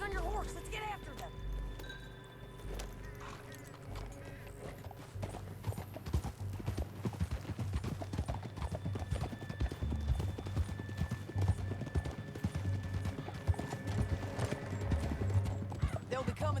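A horse gallops in Red Dead Redemption 2, its hooves clip-clopping in a steady, rapid rhythm close by, with a whinny near the start and game dialogue and ambience underneath.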